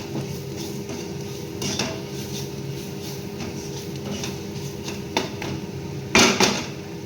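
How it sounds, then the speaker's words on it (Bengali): A utensil stirs turmeric and chili powder in a pan for a rohu fish chop, giving light metallic scrapes and taps over a low steady background hum, with a louder clatter near the end and no one talking. "এটা দিয়ে দেবো, এটা নেড়ে নিই একটু।"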